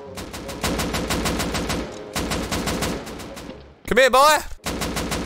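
Rapid bursts of automatic gunfire in Garry's Mod Rust, loud close volleys in two long strings separated by a brief pause, with a shouted voice over a short break before the final shots.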